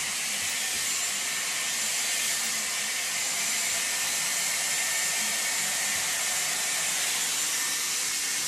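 A Dyson Airwrap styler blow-drying hair with round brush barrels gives a constant loud, close rushing whoosh of airflow, unbroken and steady throughout.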